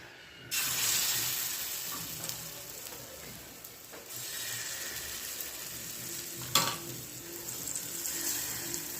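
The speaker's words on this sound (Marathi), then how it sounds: "मी तेल लावून घेतले मी तव्याला त्याच्यावर थालीपीठ टाकते" Thalipeeth flatbread sizzles steadily on an oiled griddle, a continuous close frying hiss with a few brief clinks and scrapes, and no voices.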